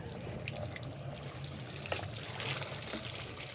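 Water poured and trickling while someone is bathed, a steady, fairly faint wash of splashing that runs through the whole stretch with no talking.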